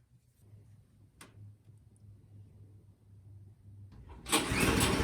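The small engine of a Toro Power Clear 721e snowblower turns over with a low rumbling crank, then catches and roars into loud, steady running near the end.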